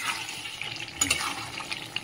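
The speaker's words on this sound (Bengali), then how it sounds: "এবারে আমি আলুটা দিয়ে দিচ্ছি এর মধ্যে, আলুটা দিয়ে কষবো" Potatoes fried in oil with goat liver and offal give a moderate, close sizzle broken by irregular stirring clatters and scrapes.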